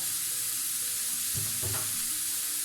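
Scrambled eggs seasoned with pepper and salt sizzle steadily in a frying pan, with a short cluster of spatula scrapes and taps against the pan partway through; no voices.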